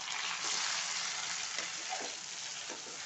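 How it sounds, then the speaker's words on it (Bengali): Onions sizzle in a pan for a village-style mashed Bombay duck and shrimp dish, a steady close frying hiss with a few soft stirring scrapes, no talking. "এখন পেঁয়াজটা আমি একটু ভেজে নেব সুন্দর করে"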